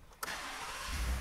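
A white 2020 Ford F-150 XLT with a 5-liter V8 cranks and catches with a sharp start, then settles into a steady, close idle.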